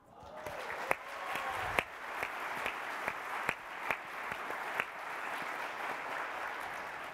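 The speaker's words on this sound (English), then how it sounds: "I'm going to make you applaud one more time" Audience applause at a keynote speech, a steady wash of many hands clapping that fills the room throughout, with a few sharper individual claps standing out near the front.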